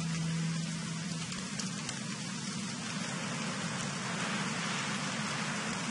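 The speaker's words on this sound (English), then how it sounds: "And it's raining now." Steady rain hisses evenly in the video game Don't Starve, a constant soft wash of drops with no other sounds.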